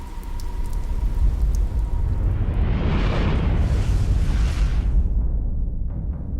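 Heavy, steady rain hissing loudly, with a low rumble swelling beneath it midway before fading, no voices present.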